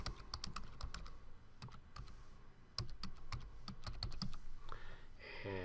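A computer keyboard typing an email and password, close and fairly faint, with clusters of quick key taps and short gaps between them, no talking.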